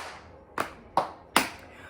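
Three sharp hand claps ring out in a slow, even rhythm, close and distinct, with no other sound between them.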